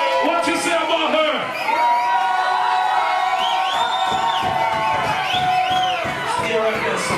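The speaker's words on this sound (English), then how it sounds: "Give her a round of applause." A club crowd at a Halloween costume contest cheers, whoops and shouts in a dense, continuous roar, with loud music and voices mixed in throughout.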